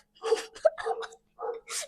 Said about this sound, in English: The barking is too much.